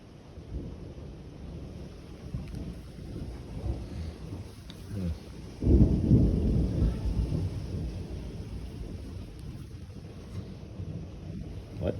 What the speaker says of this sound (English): pouring down rain